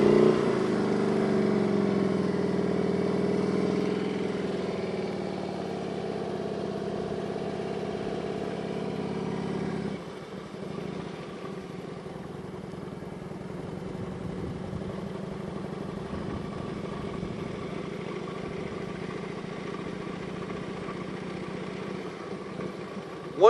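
Motorcycle engine idling and puttering at low revs through slow, tight U-turns, a steady mid-pitched drone that is louder at first, then eases off and stays even.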